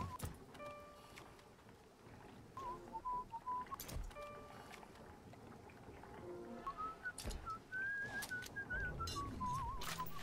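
A character in BioShock whistles a wandering tune in short phrases, fairly faint, broken up by scattered sharp clicks and thuds.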